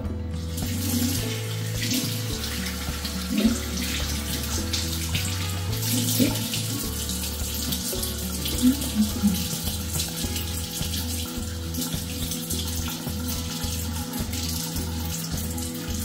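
Warm tap water runs steadily from a faucet into a home sink, a close, continuous splashing stream with no voices.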